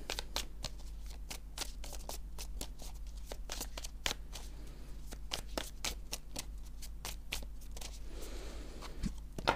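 Playing cards are shuffled and cut close by in steady flurries of crisp riffling snaps and slaps, with a low hum running underneath throughout.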